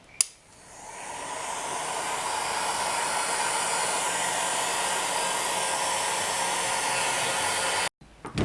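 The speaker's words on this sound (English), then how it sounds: "you can use a hairdryer or a heat gun on its lowest heat setting" A hair dryer on low heat blows steadily at close range while drying a faux snowflake obsidian piece, a constant whooshing hum that starts after a brief click and cuts off near the end.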